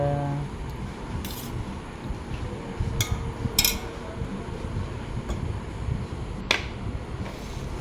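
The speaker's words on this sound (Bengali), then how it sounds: "থালা সাজিয়ে নিচ্ছি" Dishes clink as a food plate is set out with fried snacks and soybean curry, sharp metallic taps landing a few times at irregular intervals over a low, steady background hum.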